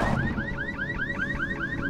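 A video game car alarm blares in a rapid, repeating electronic warble, a steady cycle of rising chirps, loud and continuous throughout.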